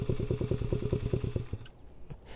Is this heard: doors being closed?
no